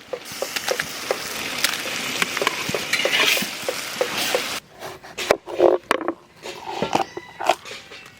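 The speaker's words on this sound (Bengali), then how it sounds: "পেঁয়াজ ভাজা হয়ে গেছে, এখন দিয়ে দেবো আদা আর রসুন।" Onion, ginger and garlic frying in mustard oil with whole garam masala, cumin, coriander and bay leaf, a steady close sizzle broken by repeated scraping stirs, then quieter with sharp clattering strokes of a spoon against the pan.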